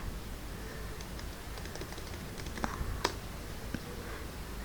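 Faint, light keystrokes on a computer keyboard tap out a project name in short irregular bursts, a few sharper clicks standing out against a quiet room hiss.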